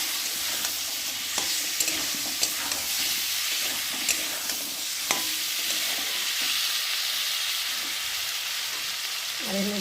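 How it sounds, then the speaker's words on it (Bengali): Turmeric, chili and salt sautéing in a pan while being stirred, a steady close sizzle with scattered scraping clicks from the spoon and no talk. "এখন ভালো করে কষাবো"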